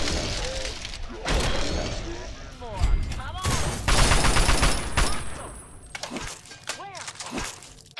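Bursts of gunfire in Fallout 3 as feral ghouls and a roamer are shot, loud clattering volleys and mechanical weapon noises, with a voice talking in between.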